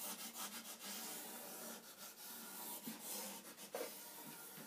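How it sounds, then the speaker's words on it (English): A hand plane shaves a wooden guitar fingerboard, giving faint, close, rhythmic scraping strokes that come in quick bursts and repeat. "So I'm gonna carry on planing from the same area that I've done before."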